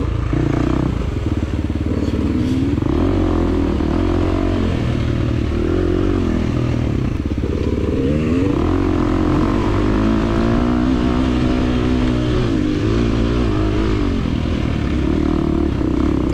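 A 2023 KTM 350 XC-F dirt bike rides a hare scramble trail, its engine buzzing steadily and loudly close to the microphone with repeated throttle surges and clatter.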